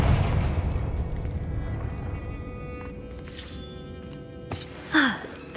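Confringo fire spell cast in Hogwarts Legacy, a booming explosion that fades into a long rumbling decay, followed by a few sharp bursts and cracks near the end, close and loud.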